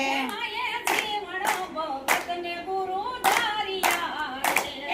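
People clap in time to a Gujarati devotional song, sharp rhythmic claps repeating about once a second beneath a singing voice, close and clear.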